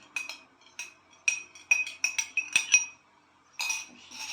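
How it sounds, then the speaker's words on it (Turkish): A spoon clinks against a bowl while yogurt is stirred into a kalburabastı dessert mixture, giving bright, separate taps in uneven bursts with short quiet gaps and no talking. "İşte tekrar karıştırıyoruz."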